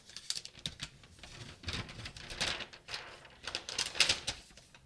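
A new 2026 MacBook Pro M5 Max being unwrapped: close, crisp rustling and crinkling of plastic packaging wrap in irregular bursts with brief soft taps, no talking.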